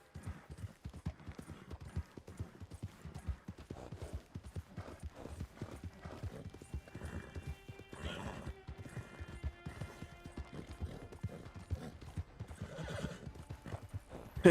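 Horse hooves clip-clop steadily at a gallop in the video game Red Dead Redemption Online, with occasional neighs and whinnies over the rhythmic beats, continuous and fairly close throughout.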